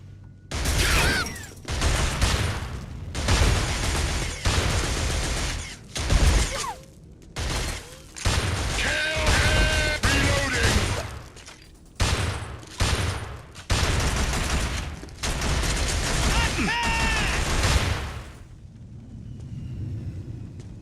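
Gunfire in a shooting video game, with long bursts of rapid automatic fire, loud and dense, broken by short pauses and some impact and debris noise throughout.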